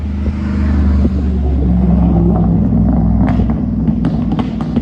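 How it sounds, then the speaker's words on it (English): A big truck rumbles past a campsite in Florida, a loud low engine roar that swells and holds, with some sharp clanks and knocks near the end. "Big truck."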